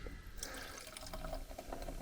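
Danish Viking beer pours into a glass with a soft, steady liquid trickle and light fizzing, faint and close, with no talking over it.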